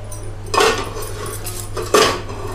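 Sugar is added to carrot halwa in a pan, with two close, loud bursts of utensil clatter and scraping about a second apart over a low steady hum, no speech.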